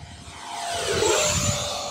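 Arrows F-86 Sabre 64mm electric ducted-fan RC model jet flying at full throttle, a whooshing, whining roar that swells as it passes nearer and then fades slightly away.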